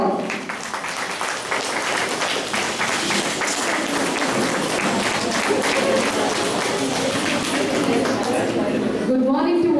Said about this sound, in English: Let's welcome them with a huge round of applause.